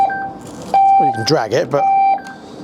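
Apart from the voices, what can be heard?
electric scooter anti-theft alarm beeping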